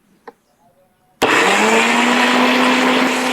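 A mixer grinder blending ABC juice kicks on abruptly after near silence and runs at full power with a loud, steady whirring roar that continues without pause.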